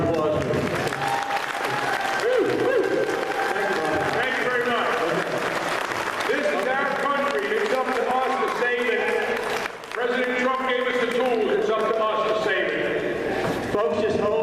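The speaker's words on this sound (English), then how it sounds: "Let's give him another big round of applause." Audience applause for a performer named Bobby, loud and steady across the whole stretch, with a voice and music-like tones riding over the clapping throughout.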